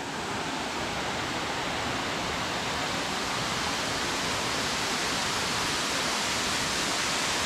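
Mençuna Waterfall in Turkey's Black Sea region roars steadily and loudly, a dense, unbroken rush of falling water with no pauses.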